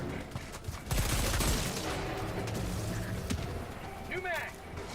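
Sustained LMG machine-gun fire in Helldivers 2 rattles in a dense, loud burst over game effects, with a player talking over the shooting.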